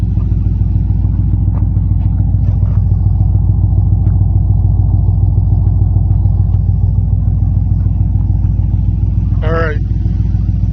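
A Pontiac Trans Am engine idling through baffled true dual exhausts with a deep, steady, throaty rumble, loud and close, with a brief voice near the end.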